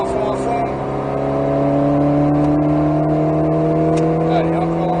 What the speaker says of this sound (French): Et on replonge, et on accélère.